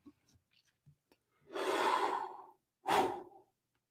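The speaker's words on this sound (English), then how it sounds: "As I yawn again, my apologies." A man yawns close to the microphone in a quiet room: a long, drawn-out breathy exhale, then a second shorter one, after a few faint small sounds.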